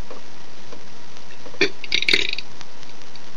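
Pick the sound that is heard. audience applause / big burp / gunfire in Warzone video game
big burp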